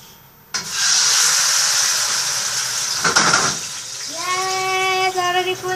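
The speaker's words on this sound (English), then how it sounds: "Now I'm cooking the tomato." A tomato hits a hot pan with a sudden loud sizzle that hisses on steadily, with a clatter midway and tonal clinks near the end.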